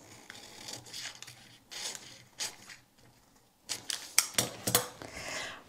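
Scissors cut out a fabric pattern for a little black dress in short bursts of crisp snips and slides, close and fairly quiet, with pauses between passes and a quicker cluster of cuts near the end.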